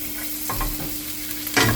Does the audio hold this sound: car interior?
no